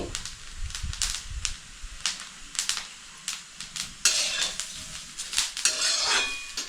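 Ginger and garlic tossed into a pan of browned onion and coconut, a run of sharp metal clinks and scrapes from stirring with a sizzle beneath, growing brighter and busier toward the end, no talk.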